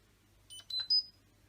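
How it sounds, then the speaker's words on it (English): Three short electronic beeps from the control panel of a Hotpoint Aquarius tumble dryer set to a 15-minute dry program, rising in pitch one after another, quiet and close over a low background hum. "Once chosen, you hear 3 little simple beeps"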